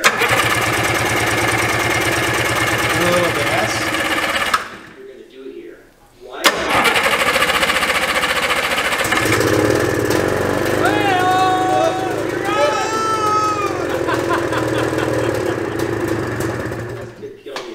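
The engine of a 1987 Yamaha Exciter 570 snowmobile, freshly fueled after years of sitting, is cranked, cuts out briefly, then catches and runs loudly and unevenly nearby while people talk over it.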